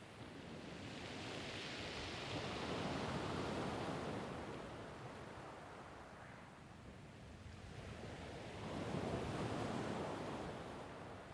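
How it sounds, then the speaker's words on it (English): Atlantic Ocean waves wash onto the shore at Nanjizal Beach in a steady broadband roar, swelling and easing in slow surges, with some wind noise and no voices. "Looking out over the expanse of the Atlantic Ocean, the water here's ever-changing hue ranges from crystal clear turquoise to bright blues and greens."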